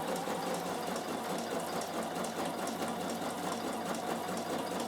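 A Bernina sewing machine stitches fabric for an art book, its steady fast mechanical whirr and needle rattle running loud and continuous throughout, with no talking.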